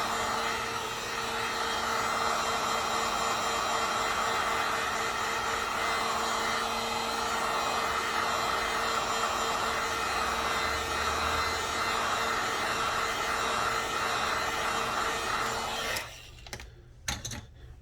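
A hot air blower heats the screen edges of a phone during a repair, giving a steady, even whooshing hiss. It shuts off abruptly near the end, followed by a few small clicks and handling noises.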